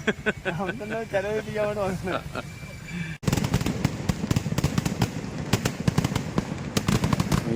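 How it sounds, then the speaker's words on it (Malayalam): Rapid loud firework bangs crackle in dense bursts after a stretch of sung or chanted voices, continuing nonstop with sharp explosive pops, at the Mudappallur Vela temple festival in Kerala. "ഇതാ ഇത് സൂപ്പർ വെടിക്കെട്ട്"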